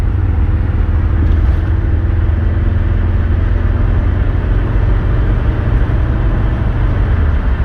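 Interior rumble of a Mercedes 300SD turbo diesel driving through first and second gear, a steady loud low engine drone with road noise, continuous and close.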